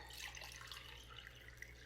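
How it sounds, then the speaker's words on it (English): Water poured from one cup into another, a faint continuous trickling splash lasting a couple of seconds, quiet and steady with no talk. "we're now going to take cup A, the present, and pour it"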